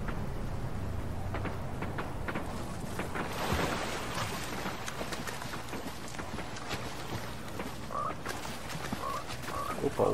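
A frog in a Fortnite match croaks repeatedly in short, rasping bursts over a breezy, rumbling game background, moderately close and fairly faint.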